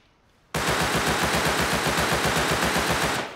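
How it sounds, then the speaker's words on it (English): Video game gunfire during a base raid breaks in suddenly as a loud, continuous automatic burst of rapid shots lasting nearly three seconds, with no talking over it. "you could probably hear a lot of shooting"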